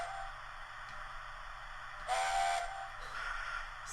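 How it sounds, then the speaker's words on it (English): Hornby Mallard model locomotive sound function plays a steam whistle, a short, fairly faint whistle blast over a soft steady mechanical hum, followed by a weaker second toot. "Such an iconic whistle."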